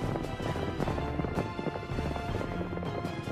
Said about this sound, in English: The horsemen rushed to attack,